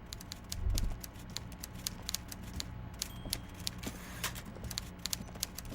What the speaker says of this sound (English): the author thinks the typewriter sounds amazing